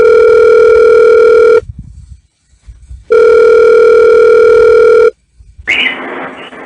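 A loud steady telephone tone sounds twice in long bursts separated by a pause of near silence, with a brief noisy crackle on the line at the end.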